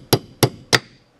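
Three sharp, loud hammer strikes land on a bent carburetor part at an even pace, each ringing briefly, followed by a faint fourth tap.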